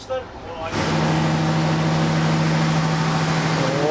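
A 1990s Ikarus 260 bus engine catches and settles into a loud, steady diesel idle after its first start in years, a deep continuous rumble right up close.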